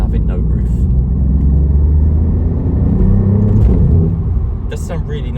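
A 2022 Alfa Romeo Giulia Quadrifoglio with the 2.9 V6 gives off a deep, steady exhaust rumble that swells slightly, heard close and loud under a voice.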